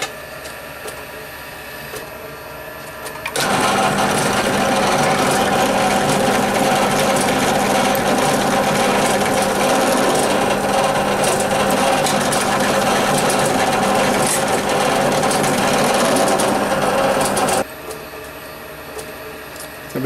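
A steady, high-pitched machine whine kicks in after a few seconds of quiet, runs continuously, then cuts off abruptly, as a 2.5mm drill bores holes into scrap metal for a small bluing pan.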